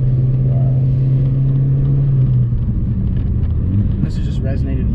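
Exhaust of a VW MK4 GTI fitted with an aftermarket downpipe, a loud, deep, droning rumble that holds steady and then eases, close to the car.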